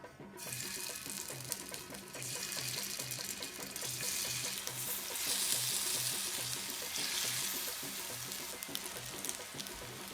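Marinated tofu frying on medium heat in hot oil for a vegan tofu masala, giving a steady, dense sizzle that holds without a break for the whole stretch.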